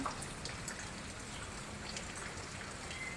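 Steady rain falls outdoors as an even, unbroken hiss of drops pattering on surfaces, moderately loud and continuous throughout, with no voices over it.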